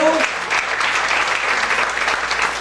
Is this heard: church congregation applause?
yes